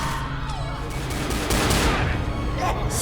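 Gunshots in the video game Back 4 Blood, a loud burst of firing layered over game effects and a voice, with the sound swelling about halfway through.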